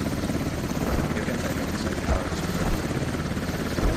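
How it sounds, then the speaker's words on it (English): Helicopter rotor in the video game Squad on the Gorodok map, a steady loud thudding whir that holds constant throughout with no voices. "That's gonna be a free 5-ticket kill there for the helicopter."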